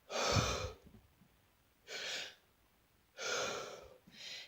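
Deep breathwork exhalations pushed out through both mouth and nose: three long, loud breathy exhales of about a second each, close to the listener, separated by quiet pauses, with a fourth starting at the end.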